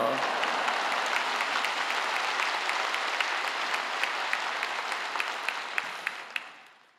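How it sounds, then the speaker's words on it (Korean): A church congregation gives a long, loud round of applause to welcome the pastor at a Wednesday worship service, dense and steady throughout, with a few sharper claps standing out before it fades at the end. "큰 박수로 목사님 맞이하시겠습니다"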